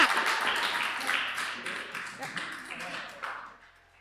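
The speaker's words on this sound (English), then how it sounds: "Sorry, they were cheering too loud." Crowd at a heavyweight powerlifting competition cheering loudly after a lift, a dense wash of shouts and clapping that swells early and fades toward the end, with voices mixed in.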